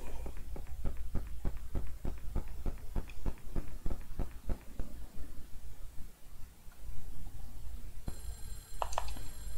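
A telephone rings in the retro horror video game Clock Tower, heard as a quick train of regular electronic bell pulses for about five seconds. The line then goes quiet apart from a faint background hum, and a brief chiming tone follows near the end.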